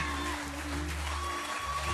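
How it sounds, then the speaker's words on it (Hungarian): Applause and ovation for a children's folk performance on a televised talent show, a quiet, steady clapping that runs beneath musical tones and background hum. "Hatalmas taps és ováció tükrözte vissza a Jászberényi gyerekek fantasztikus produkcióját"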